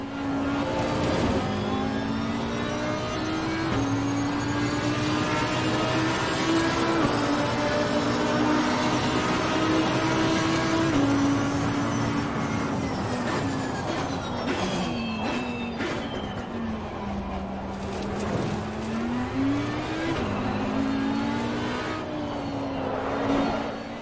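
Race car engine in the sim racing game Assetto Corsa Competizione, pulling away in first gear and revving steadily through gears, a loud continuous drone with pitch rising and falling, alone without talk.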